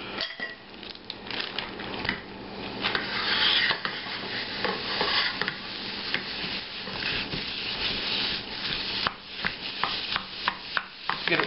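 Sweet Italian sausage being broken up in a pan with a utensil, steady scraping, rubbing and stirring that continues for several seconds with occasional sharper clicks toward the end, close and moderately loud with no talking.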